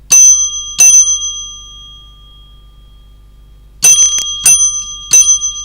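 A bright bell dings in quick bursts, two strikes early and then a cluster of four, each ringing clean and loud with short sustaining tones between silences.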